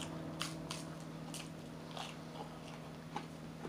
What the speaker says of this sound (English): A lot of crunching.